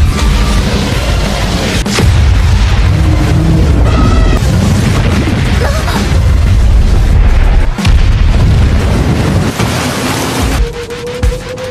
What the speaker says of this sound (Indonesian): Seketika monster kaiju meledak setelah tertusuk pedang Kapten Narumi